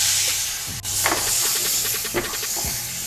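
A tomato goes into a pan of sautéing onion with garam masala and cumin powder, setting off a loud continuous steamy hiss, broken by a brief dip and a few spoon scrapes.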